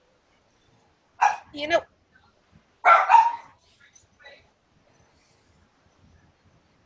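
Several dogs bark in short bursts at moderate distance, two clusters of barks about two seconds apart, with a brief spoken phrase and a few faint sounds in between.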